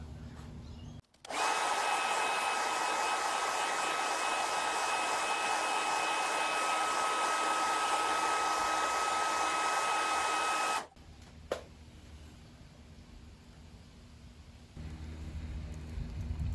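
A hair dryer blows steadily at close range for about ten seconds, heating a badge on a Mini Cooper SE, then shuts off abruptly, leaving quiet room tone and a brief click.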